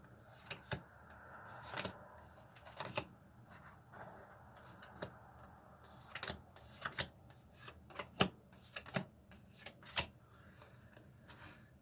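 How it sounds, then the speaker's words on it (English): Tarot cards dealt into three piles, soft close slaps and flicks of cards landing in an irregular rhythm, with light shuffling rustles between them and no voices. "I'm going to do a 3-3-3 card reading, which is just going to be 3 cards into 3 piles"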